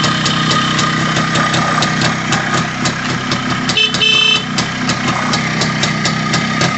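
A 1978 MZ TS 150 motorcycle idles close by with a loud, steady two-stroke putter, running continuously throughout and briefly joined by a short, higher-pitched tone partway through.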